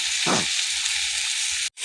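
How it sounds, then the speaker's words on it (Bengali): Chopped onions sizzle steadily in hot oil for a duck egg and cauliflower curry, giving a close, even hiss with a brief stir-like rustle near the start and a sudden cut at the end. "পেঁয়াজটা ভাজা হয়ে গেছে"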